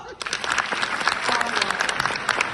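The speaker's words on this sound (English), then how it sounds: "Can you please clap for her?" Classroom students clapping for a classmate during an icebreaker quiz, a short burst of close, lively applause from a small group, fairly loud and without speech.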